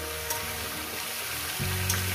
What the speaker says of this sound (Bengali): এরপর আমি আরো 5-6 মিনিট 7 মিনিট ধরে ভাজবো